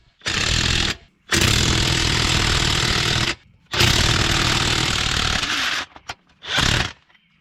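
A pneumatic impact wrench hammers loudly up close, tightening a ball joint press to push the lower race out of a Nissan 300ZX ball joint, in three long sustained rattling bursts with short pauses and a brief final blip.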